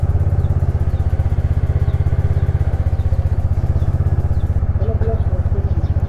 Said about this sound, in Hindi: अभी तक भाई कोल्ड स्टार्ट इसका हो रहा है